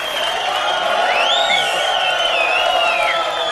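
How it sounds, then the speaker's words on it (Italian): Audience at an Italian comedy stage show whistles in long, wavering rising-and-falling tones, several overlapping, above a steady background of crowd noise. "non ho parlato e mi fischiano"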